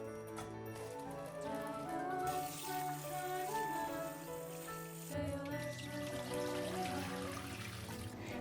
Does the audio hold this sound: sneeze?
no